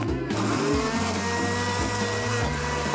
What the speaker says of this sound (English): I'll put it in the blender. Then some kiwi and raspberries.